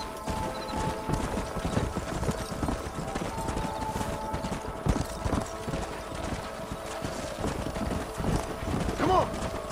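Horse hooves clip-clop steadily in the Red Dead Redemption video game, a continuous busy patter of several horses with a brief whinny near the end, mixed with game ambience and some talk.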